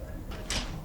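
A door shutting in State of Decay 2, a short muffled thud-and-slide over steady game background noise.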